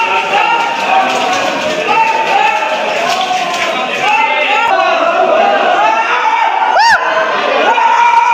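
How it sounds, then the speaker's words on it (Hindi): A dense crowd of pilgrims fills the Gupta Dham (Gupteshwar Nath Dham) cave in Kaimur, Bihar, with loud, continuous, echoing chatter and overlapping voices, and a brief sharp cry rises above the din. "कितना भीड़ है।"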